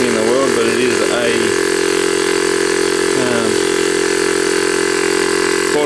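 A portable 12-volt air compressor, repaired after a cylinder leak, running with a loud, steady mechanical drone and hum, while someone talks over it in two short bursts.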